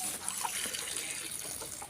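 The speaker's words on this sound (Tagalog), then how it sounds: "Lagyan muna natin ng tubig." Water poured into an animal's drinking container on a rural farm, a steady trickling splash running continuously for a couple of seconds, close and moderately loud.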